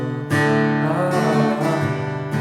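Guitar playing the bridge of a song, a few ringing chords struck in succession with sustained harmonic tails, close and clear with no talking.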